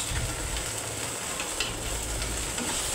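Potatoes fry with cumin, garlic and ginger paste, giving a steady, close sizzle with soft stirring scrapes throughout and no voices.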